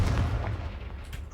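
Confringo fire spell explodes in the Hogwarts Legacy video game, a heavy booming blast at the start that rumbles and fades over about a second, with faint crackling afterward.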